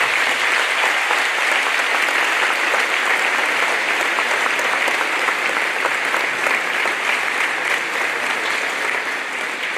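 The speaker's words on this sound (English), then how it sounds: "Lane Longhorn, Alex Wilson, Hunter Weiska, please give these students a round of applause for their" A graduation audience claps in sustained, dense applause that fills the hall evenly, loud and continuous for about ten seconds with no speech over it.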